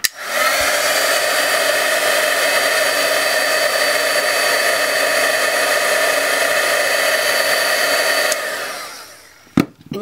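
A heat tool blows a loud, steady whirring roar while melting embossing powder on a metal brad. It runs for about eight seconds, then cuts off, followed by a few brief knocks.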